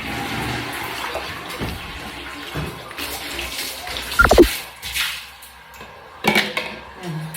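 Water splashing and running during bathroom cleaning, intermittent gushes and spatters with a couple of louder bursts amid quieter dripping, heard up close in a small tiled room.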